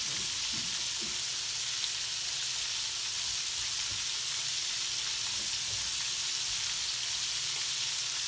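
Breaded chicken gizzards fry in hot oil, giving a steady, soft crackling sizzle throughout, with a few faint clinks and knocks in the background.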